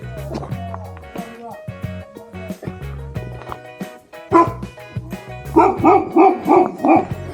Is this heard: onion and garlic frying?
no